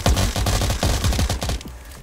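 Rapid automatic gunfire in the video game Unturned, a loud, close, continuous burst of shots that fires steadily, then tapers off near the end, with no voices.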